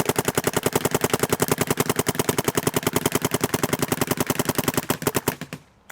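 Dye paintball marker with a mech frame fired in single-trigger electric mode, a very fast, steady rapid-fire string of sharp pops lasting several seconds before it stops, close and loud with no talking.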